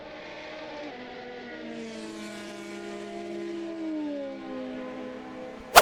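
A Ferrari 296 GTB races around the Imola circuit, its engine a smooth harmonic drone that rises and shifts in pitch as it accelerates, heard from onboard at moderate level, ending in a sharp click.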